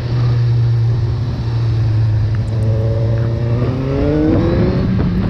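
A Suzuki SRAD 1000 R sport motorcycle engine revs hard and climbs quickly through the rpm under constant loud wind and road roar, its tone rising steadily through the second half while riding.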